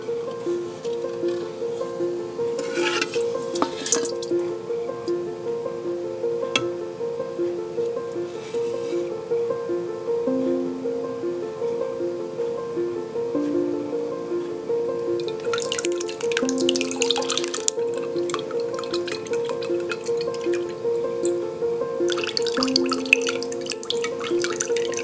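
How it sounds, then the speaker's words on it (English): Fermented rice for makgeolli being strained, with liquid dripping steadily and close up throughout, against a constant low hum and a few brief splashy bursts of water. "So we are going to scoop the fermented rice out and we are going to strain it here."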